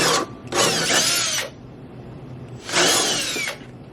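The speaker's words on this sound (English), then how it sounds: "So now that I got my first hole drilled" Power drill boring rivet holes in aggressive aero parts on a yellow Mitsubishi Evo, two loud whining bursts separated by a short pause, up close.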